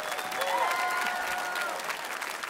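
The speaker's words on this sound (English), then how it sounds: "can you give yourself a big hand? And you can clap for yourself better than that" Church congregation clapping for themselves, dense steady applause from a large crowd filling the room throughout.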